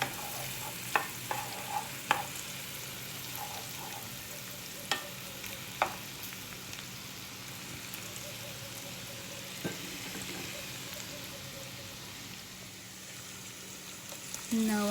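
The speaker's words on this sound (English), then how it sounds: "Now I'm going to be sauteing my onions, garlic of course, and some scallion" Onions, garlic and scallion sautéing in a pan give a soft, low sizzle, broken by a few sharp spoon taps and stirring clicks, quiet and fairly close.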